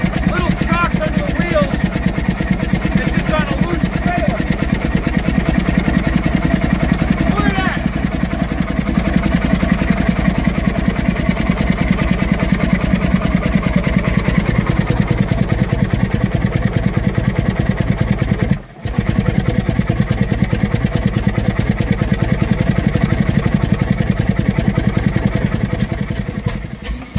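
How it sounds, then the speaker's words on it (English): A lightweight, high-performance Herreshoff triple expansion steam engine runs on a loose trailer resting on caster wheels, producing a loud, steady rhythmic chuffing clatter that continues for nearly half a minute with one brief dip partway through. "I let the engine speak for itself in this case"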